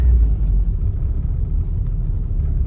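Low rumbling and scraping from the front end of a lowered Acura RSX Type S as the steering wheel turns at low speed, a steady close grinding drone with no talk.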